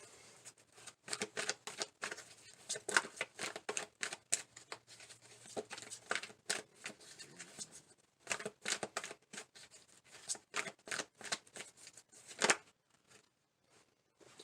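A deck of oracle cards is shuffled by hand in quick, crisp bursts of riffling and slapping, broken by short pauses, close and fairly quiet.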